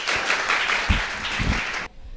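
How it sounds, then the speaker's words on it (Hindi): Applause from an audience at a coaching centre's student felicitation event in India, a steady burst of clapping that fills the hall for nearly two seconds and then cuts off abruptly. "जोरदार ताली के साथ"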